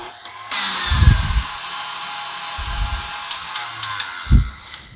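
A KitchenAid stand mixer whips egg whites and sugar on high speed, a loud steady motor whine running without pause, with a few low knocks and bumps underneath.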